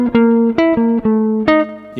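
Guitar line over rhythm changes using a bright, happy-sounding substitution in place of a 2-5, a short run of plucked notes with sustained ringing tones, close and clear with no talking.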